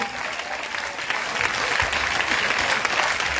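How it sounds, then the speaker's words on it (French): A congregation at a French-language Christian gathering applauds, with dense, steady clapping and cheering that holds loud throughout, blended with faint crowd voices. "acclamation pour toi-même. C'est pas pour quelqu'un, c'est pour toi-même."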